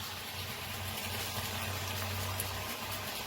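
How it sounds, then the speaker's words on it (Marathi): Peeled banana slices bubble and sizzle in hot oil, frying for a fasting-day snack: a steady, close, even hiss of boiling oil with no breaks or voices. "तर मस्त आपले चिप्स तळायला लागलेत पहा."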